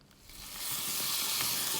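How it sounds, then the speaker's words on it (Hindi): Chicken and potatoes frying in masala give a steady sizzle that swells from quiet to a loud, even hiss within the first second and then holds, close by with no talking. "तो अच्छे से भुनाई हो गई है चिकन और आलूओं की।"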